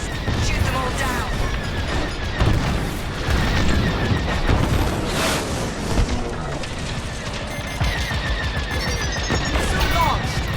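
Rapid starfighter blaster fire in Star Wars Squadrons played on an Xbox Series S streams in continuous bursts, mixed with explosions, engine whine and busy combat noise throughout.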